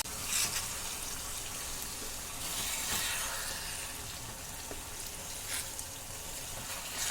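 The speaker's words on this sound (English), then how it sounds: "now we're gonna saute it nicely" Mutton sizzles steadily in a pan for biryani as it is sautéed, giving a continuous close frying hiss with light stirring scrapes.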